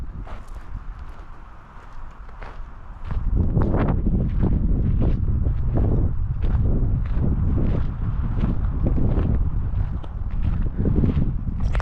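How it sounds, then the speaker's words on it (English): Wind buffets the microphone in loud, gusty bursts that rumble and thump, starting quieter then staying strong and continuous. "It's windy out. I hope the mic is working okay for you."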